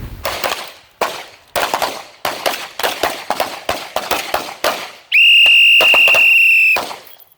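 About a dozen sharp handgun shots in quick bursts ring out at a carry trainer class range in Temecula, California, fired two-handed with weight pushed forward, followed by a long, loud steady electronic beep.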